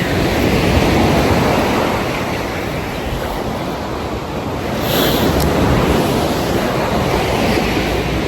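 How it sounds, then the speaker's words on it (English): Waves of the Mediterranean Sea wash and roll continuously, a loud broad surging rush mixed with heavy wind buffeting the microphone, swelling and easing with no voices. "I'm on the Mediterranean Sea, which sounds so lovely, and it is so lovely."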